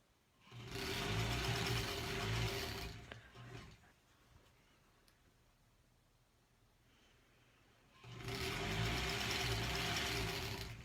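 A sewing machine stitching a granny-square quilt block runs in two loud, steady bursts of whirring, with a quiet pause of a few seconds between them.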